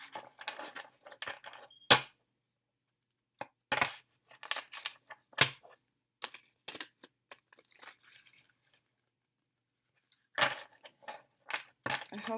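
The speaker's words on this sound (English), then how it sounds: "So we're going to shuffle the cards." Tarot cards being shuffled by hand, with irregular crisp slaps, riffles and rustles arriving in scattered bursts between quiet gaps, close and fairly soft, with no talking.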